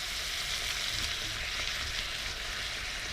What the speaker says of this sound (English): So this will just all now simmer itself down,